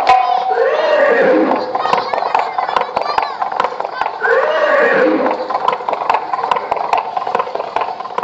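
Horse neighing with clip-clop hooves, a played effect for a chariot drawn at wind speed in a Bhagwat katha at Shivrajpur, Kanpur; two loud whinnies over steady hoofbeats, with faint voices behind.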